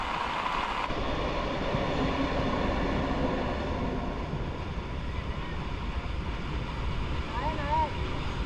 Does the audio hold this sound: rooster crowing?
no